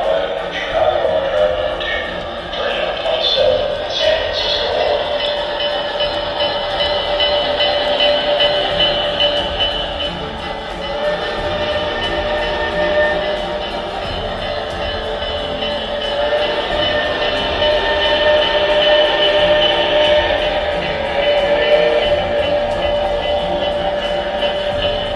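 An MTH Premier O scale 4-8-8-2 cab forward steam locomotive model with Proto-Sound 3.0 gives steady chuffing and mechanical running sounds, loud and continuous, with whistle-like tones near the start.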